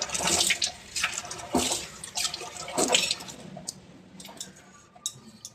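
Running water from a tap splashes unevenly as hands cup it and wet a face, with bursts of splashing and dripping, close and fairly loud, fading toward the end.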